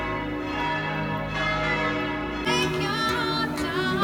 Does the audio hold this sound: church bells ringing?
yes